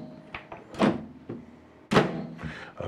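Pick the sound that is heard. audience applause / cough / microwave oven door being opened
microwave oven door being opened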